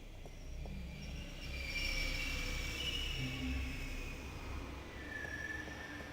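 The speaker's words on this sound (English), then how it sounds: "Let's get onto the train." Train in The Longest Journey video game, a continuous rumbling roll of wheels on rail with high sustained squealing tones drifting in and out, moderately loud and steady, without speech.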